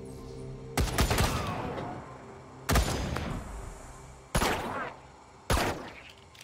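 A Wasteland 3 battle against a bunker turret brings four separate loud bursts of gunfire, each with a sharp attack and a fading tail, spaced a second or two apart.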